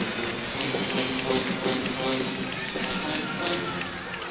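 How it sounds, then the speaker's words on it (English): An arena crowd cheers a college gymnastics beam routine at an Ohio State versus LSU meet, a loud, sustained roar of noise with speech mixed into it throughout. "And this crowd is on fire in response to Kennedy Edney."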